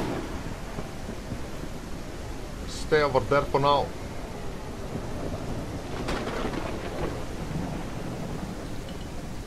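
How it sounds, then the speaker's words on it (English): Heavy thunderstorm in the survival video game Mist Survival, a continuous dense roar of rain with rolling thunder rumbling underneath, while someone briefly speaks over it. "Just this storm, they are so heavy."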